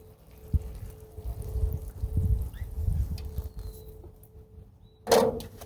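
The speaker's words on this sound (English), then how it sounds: "I always like to put a little water in the hole before I bury." Water poured into a planting hole in a garden before a seedling goes in: a brief splashing gush near the end, after low muffled handling thumps.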